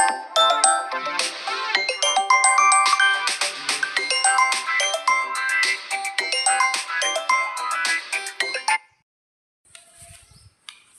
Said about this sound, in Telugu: మధ్యలో కాల్ వచ్చింది ఫ్రెండ్స్, ఏమనుకోవద్దు.